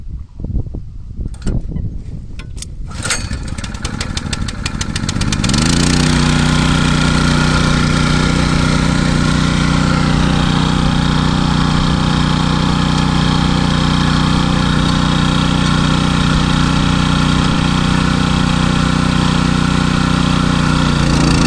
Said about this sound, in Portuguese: O motor já tá jogando água, viu?